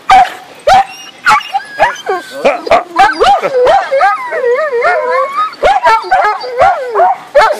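Several dogs bark, yip and howl excitedly at close range, stirred up by foxes in woodland, with repeated sharp barks and a long wavering howl running through the middle, and a person speaking briefly among them.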